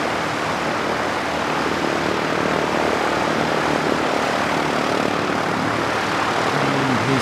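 A propeller airliner on the Wellington service drones steadily at an airport, a loud, continuous broadband engine roar with no gaps, heard from fairly close by.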